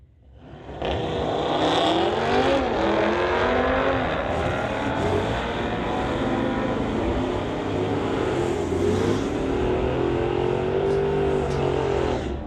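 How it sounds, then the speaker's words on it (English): A 2018 Audi RS3 and a 2019 Dodge with a 392 Hemi launch in a street-legal drag race, engines roaring loudly and revving hard through rising and falling gear changes, with crowd noise underneath. "Malia Basal from Coquitlam, BC, racing a 2018 Audi RS3 going against Clayton Schultz."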